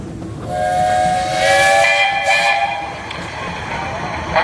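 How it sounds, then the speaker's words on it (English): A loud steam whistle on a 1924 Minneapolis Threshing Machine Company steam traction engine blows in a sustained, wavering chord over a hissing background, swelling and fading across a few seconds, at a threshing show parade. "This is a 1924 Minneapolis Threshing Machine Company steam engine owned by Joe Talbot and Noah LeCount"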